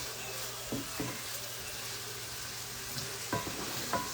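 Bolanee, Afghan stuffed flatbread, fries in a hot oiled pan with a steady close sizzle and occasional clinks of a utensil against the pan, with no talking.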